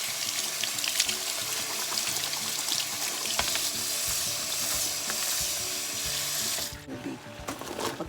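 Water bubbles and roils steadily in a pot as asparagus boils, a continuous close hiss-and-churn that runs for several seconds before dropping off near the end.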